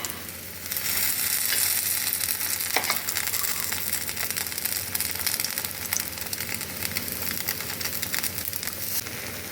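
Pancake batter fries in a pan over low heat with a loud, continuous crackling sizzle, occasional clinks and stirring sounds, and no voices.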